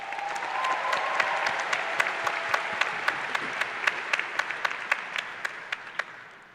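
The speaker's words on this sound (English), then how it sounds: "Give yourselves a round of applause." A graduation audience at a University of Iowa master's commencement applauds in a big hall, a broad, moderately distant wash of clapping that settles into a rhythmic beat of loud claps before fading slightly.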